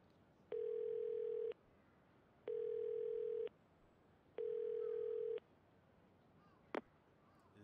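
Three steady telephone tones of about a second each, separated by short pauses, come from a phone in the video game Yakuza 0. A brief faint click follows after the third tone over a quiet background.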